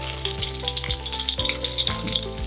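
Shrimp marinated in turmeric and salt fry lightly in a pan with a continuous close sizzle, and brief stirring clinks punctuate it with no talking.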